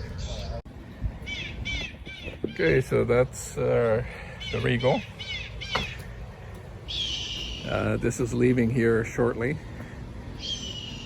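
Recorded bird calls, crow-like caws and chirps, play over a loudspeaker at a marina while someone talks over them.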